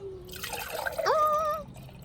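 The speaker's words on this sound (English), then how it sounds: "I'm just gonna take my jar and put some water in it." Water pours into a glass jar, a brief close splash rising into a ringing, pitch-climbing fill that stops after about a second.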